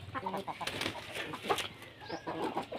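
Native breed chickens on a farm clucking and cooing in short, soft bursts, fairly faint, mixed with low background voices.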